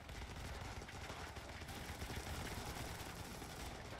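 Dense, continuous gunfire from a firefight in the top-down tactical shooter Running With Rifles, a steady loud crackle of many rifles blending with engine-like rumble, with no pauses over the whole stretch.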